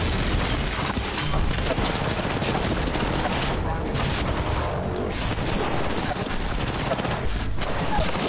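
Video game battle royale firefight with rapid, dense bursts of automatic gunfire and booming shots, continuous and loud, with players' voices talking over the shooting.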